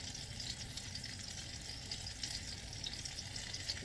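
Apple fritters frying in hot oil, a continuous, soft crackling sizzle that holds steady throughout, fairly quiet and with no one talking.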